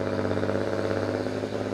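A heavy tractor engine at a European Championship tractor pulling event in Brande roars steadily and loudly up close, a dense low drone with strong harmonics held without pause.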